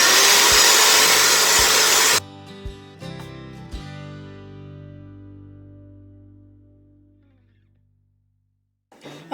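A hand mixer beats keto chaffle batter with about two tablespoons of crumbled blue cheese, loud and steady for two seconds before cutting off, then a few knocks and a fading motor hum.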